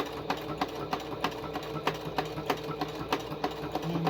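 Sewing machine stitching an envelope journal, running at a steady rhythmic clatter of needle strokes with a constant motor hum, close and moderately loud, no talking.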